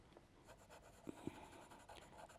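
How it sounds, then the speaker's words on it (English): Pastel pencil squeaking as it drags across a paper surface while drawing a Boston Terrier, a few short faint scratchy strokes close by. "It is actually quite squeaky. You can hear the pastel pencil on the surface."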